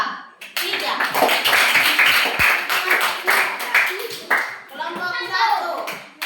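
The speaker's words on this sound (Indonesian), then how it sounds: "Tepuk tangan buat kelompok" Children in a third-grade classroom clap for a student group, a dense burst of small hands clapping in quick patters with rhythmic bursts, mixed with children's chatter and voices.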